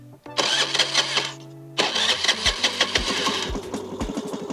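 A bike engine fitted to a homemade six-seater long bike starts up near and loud, a brief lull, then settles into a steady running beat with rhythmic throttle pulses.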